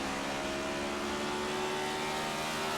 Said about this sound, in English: you can hear again, there's that downshifting again